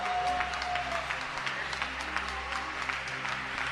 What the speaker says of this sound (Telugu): గట్టిగా చప్పట్లు కొట్టి పైకింపరుద్దాం